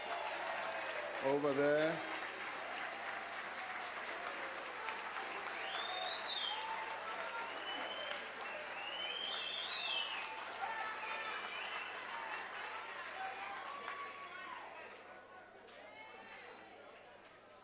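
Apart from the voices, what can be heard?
applause in the National Assembly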